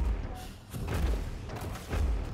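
Gunfire in an arena shooter, Quake Champions, during a 2v2 match: several heavy, booming thuds and blasts spaced about half a second apart over a rumbling background, fairly loud, with no talk.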